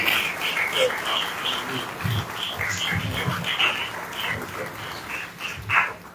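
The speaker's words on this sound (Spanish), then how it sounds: "Lo recibimos con un aplauso" A church congregation applauds during a pastor's anniversary service, a steady patter of clapping with scattered voices and shouts mixed in.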